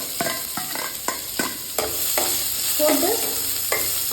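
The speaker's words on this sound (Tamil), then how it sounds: "வெங்காயத்தை போட்டுட்டு வதக்கிக்கலாம்." Two medium chopped onions fry in a pan for a home-cooked kovakkai curry, a close, steady sizzle broken by repeated scraping strokes of a spoon, with one brief spoken word.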